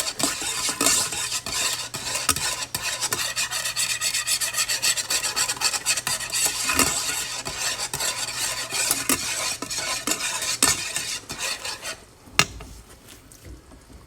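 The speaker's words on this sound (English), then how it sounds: "if you don't stir this down, it will boil over" A pot at a rolling boil on the stove is stirred steadily, giving a continuous close scraping and rasping with bubbling beneath and occasional knocks against the pot, with no voices.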